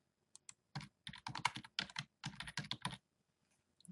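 Typing on a computer keyboard, a run of quick, soft key clicks in close clusters over about two seconds, with a few isolated taps before and after.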